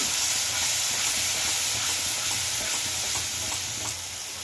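Poppy seed and cashew paste sizzles steadily in hot oil in a pan for a white gravy, with a continuous close hiss and soft stirring scrapes, and no voices.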